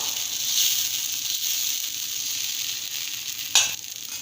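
Dosa batter frying on a hot pan, a steady high hissing sizzle that swells once near the start, then a single sharp scrape or crackle toward the end, close and with no voices.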